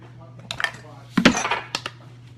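Spoon clinking and scraping in a bowl while stirring together cranberries with maple syrup or maple flakes, a few short clatters with a louder burst of scraping in the middle.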